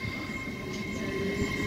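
LNER Azuma unit 801108 pulls out of Doncaster station toward Leeds, giving a steady rolling rumble with a faint electric whine layered above it, sustained and even throughout without voices.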